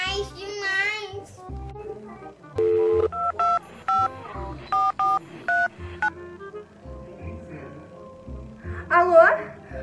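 A telephone keypad being dialed, a quick series of distinct DTMF tone beeps in an even rhythm, loud and close, with a voice and other talk around the tones in a home setting.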